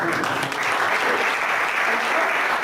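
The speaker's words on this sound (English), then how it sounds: "Applause for the people who have managed to get these fingers together." An audience at a corporate hypnosis talk breaks into steady applause, dense continuous clapping from many people in a room, with faint voices mixed in.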